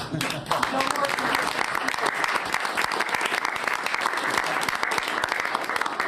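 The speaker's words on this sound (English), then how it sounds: "The press actually broke out in applause." Applause from members of the press at a White House cabinet meeting, a dense, sustained round of clapping that fills the whole stretch at steady loudness, with voices mixed in underneath.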